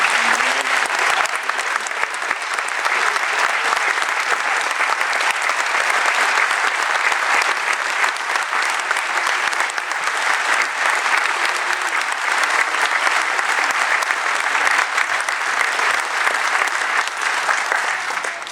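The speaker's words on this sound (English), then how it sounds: "a round of applause to these wonderful women that do this training" Long, even applause from a large audience at a Veterans Day ceremony, honoring veterans and the women who train them; dense, unbroken clapping with no talk over it.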